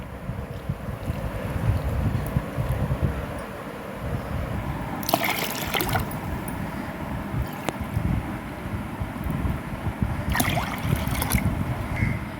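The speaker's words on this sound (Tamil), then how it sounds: "தண்ணி அஞ்சு கப்பு ஊற்றிக்கணும்" Water pours steadily into sathu maavu (nutrition flour) for porridge with a trickling, splashing sound, rising in brief louder bursts of liquid falling into a container.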